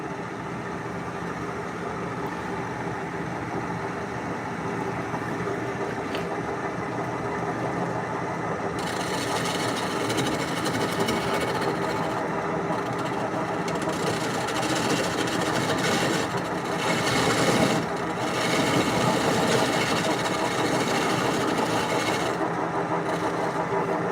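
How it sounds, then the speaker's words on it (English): A wood lathe spins steadily while a carbide turning tool rounds over the workpiece, giving a continuous mechanical hum that grows rougher and louder midway as the cut bites, with no talking. "Let's use our carbide tool."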